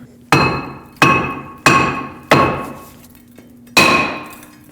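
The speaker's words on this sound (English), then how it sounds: "hit between the lug studs or from the back side of the rotor, and that'll break it free" Hammer blows striking a brake rotor to knock it free from the front hub of a 2006-2015 Lexus IS250, five sharp metallic strikes with ringing decay, spaced unevenly over a few seconds with no talking.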